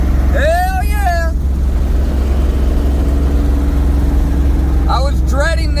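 A car engine drones low and steady while being driven home across a bridge, a continuous close rumble with a voice speaking briefly at the start and end.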